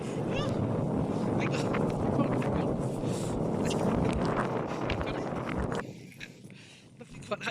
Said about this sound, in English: so it's a tad windy